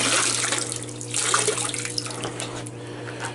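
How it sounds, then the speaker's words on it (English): Water from a garden hose sprays steadily over the pleated filter cartridge of a Coleman SaluSpa Havana inflatable hot tub, a continuous close hiss and splash with slight swells, no voices. "You can just hose them out."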